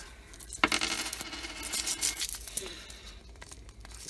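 Coins from an opened coin roll spill and clatter with bright, dense metallic jingling, close and fairly loud, rattling on for several seconds with some paper crinkling mixed in.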